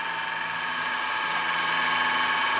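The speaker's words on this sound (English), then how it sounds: "I'm gonna sand on this a while" A turned wooden chalice spins on a lathe while being sanded, giving a steady, close, continuous whirring hiss with a bright high edge that holds even throughout, with no voices.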